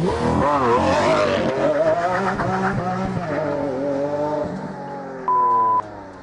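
A Lamborghini Aventador engine roars loud and close, revving up and down through rising and falling sweeps with a brief tire squeal, then a steady tone near the end.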